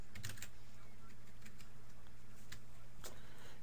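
Quiet keystrokes on a computer keyboard as a password is typed, a few soft scattered clicks over a steady low electrical hum, with no talking.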